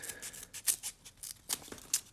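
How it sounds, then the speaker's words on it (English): Scissors snipping in a craft session, a series of short, crisp cuts at an uneven pace, close and fairly quiet, with no voices. "now I'm just going to take my scissors"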